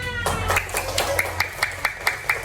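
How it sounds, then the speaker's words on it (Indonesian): Children in a primary school classroom clap in a rhythmic pattern, a run of sharp, evenly spaced claps that comes after a brief burst of cheering, close and fairly loud. "Kasih tepuk tangan."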